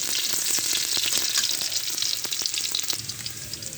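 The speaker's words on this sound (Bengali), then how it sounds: "প্রথমে তেল দিলাম, দেওয়ার পরে পেঁয়াজ কুচি দিলাম 2টা" Chopped onions frying in hot oil in a pan for a Bengali eggplant and fish dish, a steady close crackling sizzle with occasional stirring scrapes, no voices.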